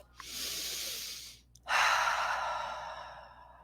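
A long audible inhale followed by a brief pause and a strong, breathy exhale that slowly fades, up close during a relaxation exercise.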